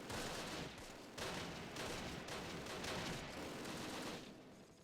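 Mortar and rifle fire in the Close Combat war game crackle in dense bursts. Sharp reports overlap into a continuous fusillade with brief lulls, loud and close, with no voices.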